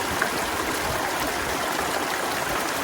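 Filtered water runs from a squeezed CNOC plastic bag through a Sawyer Squeeze filter, a steady close hiss of flowing, trickling water with no voices.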